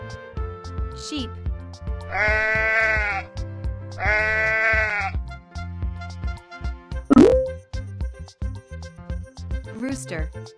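Two loud, wavering sheep bleats, each lasting about a second, separated by a short pause, followed by a few scattered clicks and knocks.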